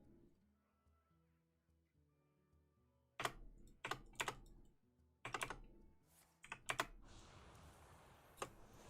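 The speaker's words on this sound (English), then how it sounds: "Typing in meat right now." Sharp bursts of keystrokes on a computer keyboard come in quick clustered runs with short pauses, close and fairly loud over a faint musical background.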